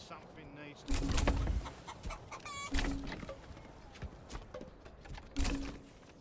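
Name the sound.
chickens clucking from chicken coops in Manor Lords video game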